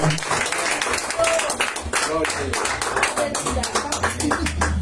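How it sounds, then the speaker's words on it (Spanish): A church congregation claps together in a dense, sustained burst of applause, loud and close, with voices speaking over the clapping throughout. "Denle un aplauso al Señor."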